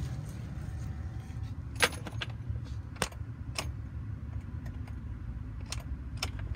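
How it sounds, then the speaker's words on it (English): A key turns in the ignition of a 2012 Ford F-250 XL 4x4 with a 6.2 liter V8 that will not start because no power reaches the starter. A few sharp clicks and light jingles sound over a faint low hum, with no cranking. "I hit the key, nothing happens."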